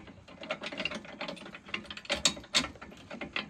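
Key turning in the lock of a Green Touch trimmer rack, a quick run of close ratcheting metallic clicks and clacks over a few seconds, fairly quiet and alone.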